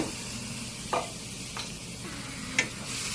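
Zesty chili-style diced tomatoes sizzling in a pan for a pasta primavera with bratwurst, a steady close hiss with a few brief scraping stirs, no voices.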